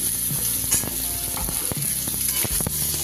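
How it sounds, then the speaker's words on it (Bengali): Chunks of taro and potato fry in hot oil, sizzling steadily with crackles and occasional stirring scrapes, close and continuous with no voices. "এই তেলে আমি এক এক করে সবজিগুলোকে ভেজে নেব।"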